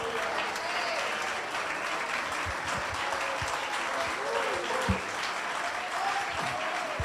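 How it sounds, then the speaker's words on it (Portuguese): A standing church congregation applauds in praise, sustained thick clapping throughout with voices calling out underneath and occasional louder claps. "Fica em pé aplaudindo ao Senhor, aplauda ao Senhor"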